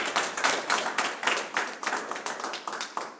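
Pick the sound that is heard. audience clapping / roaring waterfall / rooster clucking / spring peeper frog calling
audience clapping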